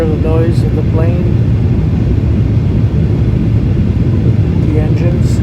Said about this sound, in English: Can you hear the noise of the plane?